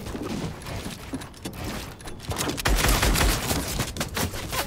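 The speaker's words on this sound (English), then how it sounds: "Wait, why did my shotgun shoot?" Shotgun blasts in Fortnite, a dense burst of loud gunfire and clattering game effects that swells in the second half of the clip.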